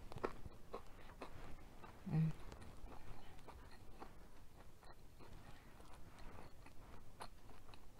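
Someone bites and chews crunchy pizza made on naan and tortilla, giving faint, repeated crisp crunches close to the microphone, with occasional talk in the background.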